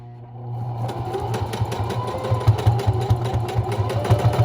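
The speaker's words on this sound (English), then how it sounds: "this is why I have a heavy duty sewing machine" A heavy-duty sewing machine stitches a fabric face mask, running steadily, its motor humming under a rapid, rhythmic clatter of stitching that builds after a brief start.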